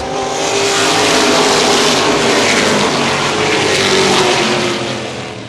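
CRA late model sportsman race cars roar past at Baer Field Speedway, a loud engine wash that swells as the pack passes close and then fades slightly, with no voices.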